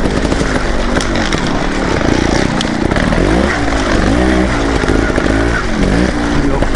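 Dirt bike engine in a hare scramble race, heard close from the rider's position, roaring continuously with repeated revving surges and throttle changes as it rides over rough terrain.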